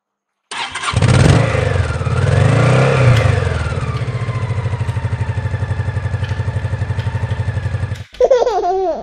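A toy motorbike engine sound revs up, then holds a steady buzzing drone for several seconds before cutting off abruptly, followed by a short burst of playful electronic sound.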